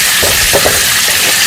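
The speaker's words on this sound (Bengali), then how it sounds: "গরম তেলের উপরে আমি শুকনো লঙ্কা দিয়ে দিলাম। এবার দিয়ে দেবো রসুন কুচি।" Dried red chillies and chopped garlic fry in hot oil left over from frying chicken, giving a steady, close hiss of sizzling with faint soft stirring bumps and no voices.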